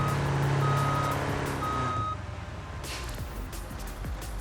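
Steady electronic reversing beeps from a truck backing up in the BeamNG driving game, loud and regular for about two seconds over engine rumble, then fading into low idling and traffic noise.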